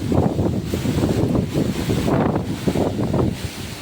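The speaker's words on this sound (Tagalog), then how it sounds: "Sobrang lakas po ng hangin dito mga kabatang." Strong wind buffets the microphone in steady, loud gusts of low rumbling noise, with no voices over it.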